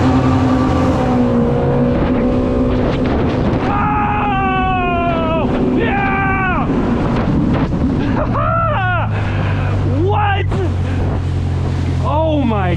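A Yamaha GP1800R jet ski accelerates hard from a standstill to 60 mph, its engine roaring loud and close with rising pitch sweeps under heavy wind noise, while voices talk over it.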